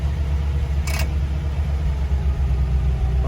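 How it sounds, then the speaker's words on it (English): A 1948 Buick Roadmaster Woodie estate wagon with DynaFlow runs with a steady, low engine rumble throughout, broken once early by a brief sharp click. "This car has almost never had a problem starting"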